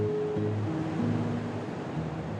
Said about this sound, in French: On sent les détonations des vagues, on est proche, c'est impressionnant.